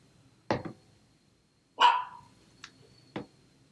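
A dog locked out of a room barks in short separate bursts, one sharp woof, a longer higher yelp, then a couple of quick clipped barks from nearby.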